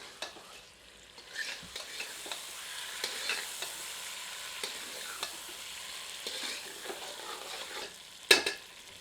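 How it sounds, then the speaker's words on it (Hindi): Spicy restaurant-style chicken curry with masala sizzles and fries in a pan as a utensil stirs it, soft steady frying hiss with scraping strokes throughout and a sharper clatter near the end. "सबको मिलाते हैं और 2 से 3 मिनट मध्यम आंच पर भूनते हैं।"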